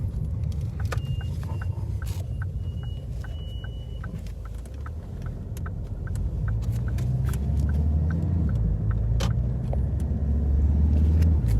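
A 2013 Ford Mondeo 2.0 with an automatic gearbox drives along, giving a steady, loud road and engine rumble heard from inside that swells slightly halfway through, with small rattles and no talking.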